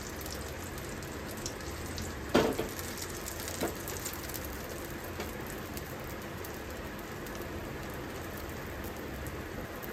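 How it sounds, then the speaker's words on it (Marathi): Oil sizzling in a pan as breakfast batter fries, producing a steady, rain-like hiss throughout with one or two brief clinks near the start. "आता हे जे तेल टाकलंय ना मध्ये त्याला आपण सगळीकडे पसरवूया"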